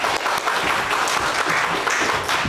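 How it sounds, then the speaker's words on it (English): Applause from an audience at a student improv show as performers are called on stage, a dense, even burst of many hands clapping throughout, fairly close and moderately loud. "Give them a round of applause."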